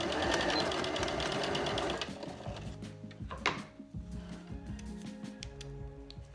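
Sewing machine stitching fabric with cream thread across a thread catcher: a fast, even mechanical whirr that gives way to slower, uneven clicking and ticking of the needle and mechanism.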